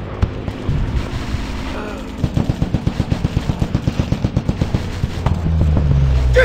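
Machine gun suppressive fire in the Commando Stake Battle fighting game, a rapid, evenly spaced burst of loud shots over rumbling background game sound, with a voice speaking near the start.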